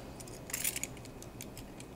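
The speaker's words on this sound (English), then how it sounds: "Yeah, these are some keys." A small set of metal keys is handled and jingled, producing light, scattered clinks with a brighter cluster near the start, faint and close against a quiet room with no talking.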